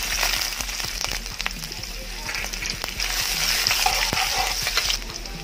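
Ginger fries and is stirred in a pan for Filipino ginataang susong pilipit, a close, busy sizzle with scraping utensil clicks and spatters throughout.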